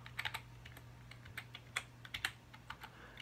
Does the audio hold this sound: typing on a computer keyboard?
yes